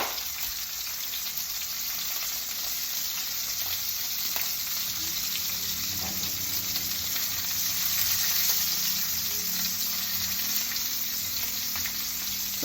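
Steaks frying in a pan give a dense, continuous sizzle with crackling pops, steady and close for the whole stretch with no voices.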